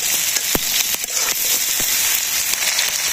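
Chopped onion, crushed garlic and green chilies fry in hot oil with a steady sizzle broken by sharp crackles and pops, close and fairly loud with no talking.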